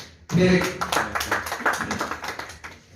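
Audience applause at a political gathering of newly elected press club officials and senior journalists, a dense burst of many hands clapping that starts abruptly and carries on steadily, with a voice speaking over it.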